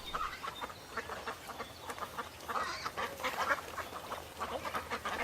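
Ducks being fed bread quack repeatedly in a busy, overlapping chorus, close and fairly loud, with no talk over them.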